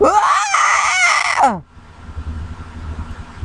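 A scream sound effect from a lost-episode story, a loud harmonic wailing cry that rises and falls for about a second and a half, then cuts off sharply into a low, murky rumbling ambience.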